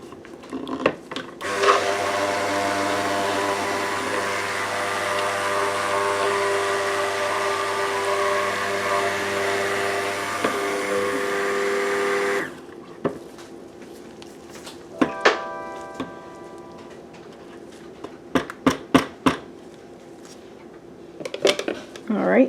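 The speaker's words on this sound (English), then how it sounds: "This is a stick blender I use for soap making." A stick blender mixing liquid dish detergent whirs steadily for about ten seconds, then stops, followed by scattered clinks, taps and knocks.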